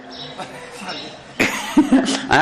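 A voice mimics an old man's harsh, rasping cough, a few rough bursts toward the end after low murmuring.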